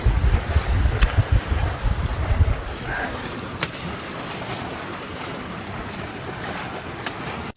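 A sailboat coming in toward islands at night, with a heavy rush of wind and water early on that eases into a steadier hiss of wind and waves against the hull, plus a few faint knocks.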